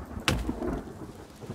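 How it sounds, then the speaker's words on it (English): Rain and thunder in the survival game The Forest: a sharp thunder crack gives way to a rolling rumble over a steady wash of rainfall. "Ah, it's raining."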